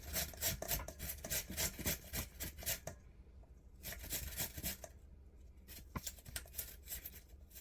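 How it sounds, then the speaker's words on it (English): Fresh ginger is scraped across a kitchen grater in quick, rhythmic rasping strokes, close and fairly loud, with two short pauses breaking the run of scraping. "This is the ginger. I'm gonna grate it and mix it with the rest of the vegetables."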